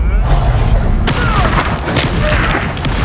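Incendio fire spell cast in Hogwarts Legacy, a sharp burst of flame with a heavy thump that gives way to a crackling, roaring rush layered over constant low rumble.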